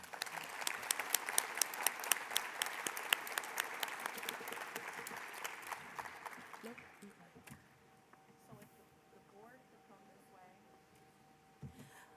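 Audience applause honoring award recipients at the Henrico State of the County Address, a dense burst of clapping from a large indoor crowd that fades out after several seconds, followed by quieter room sounds.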